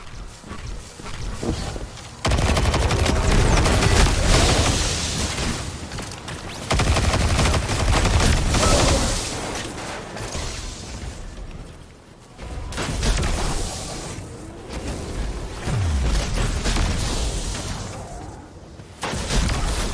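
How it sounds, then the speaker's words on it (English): Explosions and gunfire from a grenade launcher in the Destiny 2 shooter, loud bursts recurring through a dense battle with short quieter gaps between them. "Killed myself with a grenade launcher"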